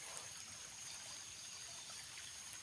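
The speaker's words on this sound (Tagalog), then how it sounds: "Sapa po ito." A mountain stream flows in a steady, faint wash of trickling water, continuous and even with no voices over it.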